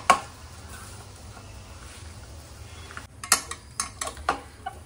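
Chopped dates being stirred into ghee-roasted dry fruits in a pan, heard as soft scraping and clinking of the spoon against the pan, a sharp knock at the start and a cluster of livelier scrapes near the end.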